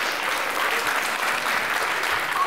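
Applause for a contestant after twelve correct answers on a school book quiz show, a steady, full burst of audience clapping that stays even throughout, with no voices.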